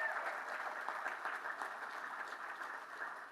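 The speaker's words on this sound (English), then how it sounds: "let's give her a really big round of applause" Steady audience applause fills a brand unveiling event for a Boston women's soccer club, a dense, even wash of many hands clapping that stays fairly faint and distant throughout, with no voices over it.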